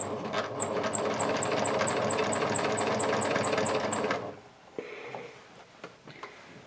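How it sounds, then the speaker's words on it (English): Sewing machine top stitching a fabric tote bag, a steady close whirring with rapid regular needle ticks for about four seconds, then stopping, followed by faint handling clicks. "And now we're going to top stitch this"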